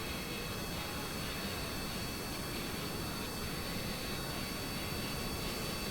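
Jet turbine blades in Kerbal Space Program spin at an extreme rate, making a steady, loud, broadband roar with a thin high whine, continuous and unchanging throughout.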